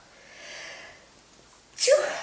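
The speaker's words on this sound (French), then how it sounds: "Pardon, j'éternue un tout petit peu." A person's sneeze bursts out sharply near the end, preceded by a soft inhaling breath, loud and close in an otherwise quiet setting.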